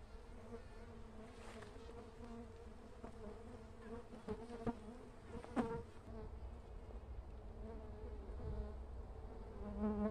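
Jatai bees buzzing during a honey harvest from a bamboo nest hive, a dense steady drone of many insects with individual bees whizzing past the microphone, close and moderately loud.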